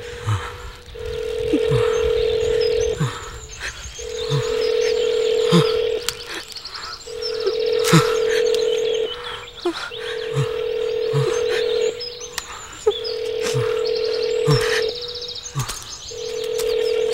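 A telephone rings in repeated bursts, each long trill followed by a short pause, loud and close, with chirping birds faintly underneath.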